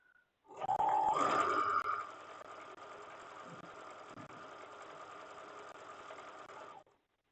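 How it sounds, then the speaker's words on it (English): A sewing machine stitching one side of fabric runs at a fast steady whir, louder for the first second or so and then settling into an even, continuous hum before stopping. "So I've got one side sewn up now."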